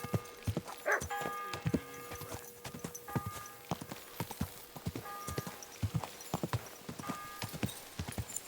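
Horse hooves clip-clop in a steady, brisk rhythm, close and fairly loud, with no one talking, in the video game Kingdom Come: Deliverance II.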